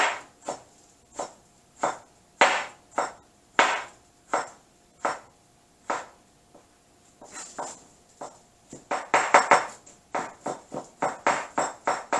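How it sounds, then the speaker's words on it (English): A knife cuts ginger finely on a cutting board for a ginger soy steamed fish fillet, making crisp, close chopping knocks in a steady rhythm that quickens into a rapid flurry of strokes toward the end. "I'm going to finely cut the ginger."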